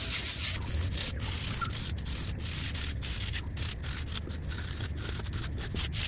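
Rust being scrubbed off old home gym equipment with a small abrasive pad, a steady close rasping rub with repeated strokes running throughout, no talking.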